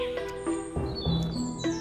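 Birdsong sound effect in a storytelling of a fairy tale, short bright chirps and tweets repeating in quick bursts, clear and close over a soft background.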